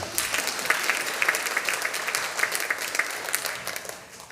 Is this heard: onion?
no